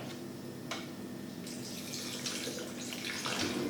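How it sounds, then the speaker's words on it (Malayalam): A little water pours onto chopped banana stem for grinding, a soft continuous splashing trickle that grows slightly stronger toward the end, close and alone without talk. "ഒന്ന് ഗ്രൈൻഡ് ആവാൻ വേണ്ടി ഒരല്പം വെള്ളം ഒഴിക്കുക"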